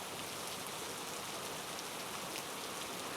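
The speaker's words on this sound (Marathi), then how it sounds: "ज्या प्रकारे मुसळधार पाऊस वसई, विरार, नाला सोपारा या भागामध्ये पडतो" Heavy rain pours on the Mumbai-Ahmedabad expressway, a dense, even hiss that stays steady and loud throughout with no talking.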